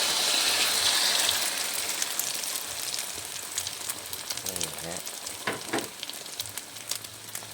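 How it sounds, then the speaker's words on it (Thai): Steady crackling sizzle of egg frying in very hot, plentiful oil in a pan for a Thai omelette, with a few sharper pops and spatters toward the end. "ตั้งกระทะนะครับใส่น้ำมันนะครับ ให้ร้อนจัดเลยนะครับ ใส่น้ำมันเยอะหน่อยนะครับ เดี๋ยวไข่ลงเลยครับ"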